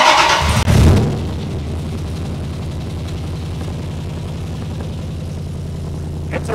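A 500 HP Hemi-swapped Dodge Ram engine cranks briefly, catches with a loud burst, then settles into a steady, rumbling idle, heard close from behind the truck with no talk.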